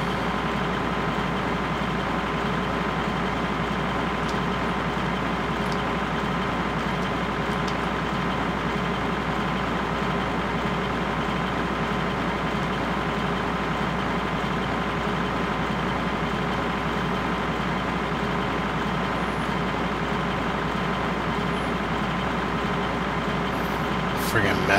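Small tractor engine running steadily in the Farming Simulator 2013 video game, a constant loud droning hum that holds unchanged throughout with no pauses.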